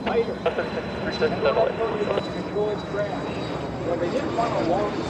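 An L-29 jet trainer departs south from the runway at EAA AirVenture, its engine a broad steady roar under air-show commentary, with people talking throughout.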